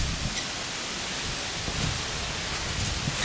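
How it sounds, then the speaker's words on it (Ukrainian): Wind blows steadily in a broad, rushing roar, with slight gusts and rumble against the microphone throughout. "Бачите, як вітряно, як прохолодно."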